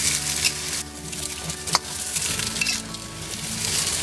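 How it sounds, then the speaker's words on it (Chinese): Pork ribs and ginger slices hitting smoking-hot oil in a wok, a loud continuous sizzle and crackle with a sharp splatter midway and the frying steady to the end. "油烧至冒烟后加入姜片，倒入排骨，排骨烧至变色之后加入水"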